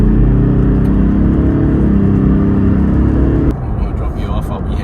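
Toyota Land Cruiser LC300 engine heard from inside the cabin, a loud, steady low drone and whir under acceleration that suddenly drops to a quieter road rumble partway through.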